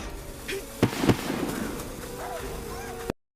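Firecrackers thrown at a wolf in an anime isekai scene: two sharp, loud pops land close together, followed by faint crackling over a steady background bed.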